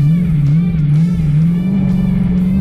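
A Dodge Challenger holds a steady, loud engine drone near 3,000 RPM at the line before launching, a close, continuous rumble with a slight rise and dip in pitch and no voices.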